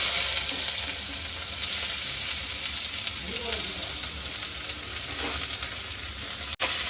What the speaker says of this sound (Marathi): तेल पूर्ण गरम झाल्यानंतर त्यात आपल्याला टाकायचं आहे 2 चॉप केलेला एकदम बारीक कांदा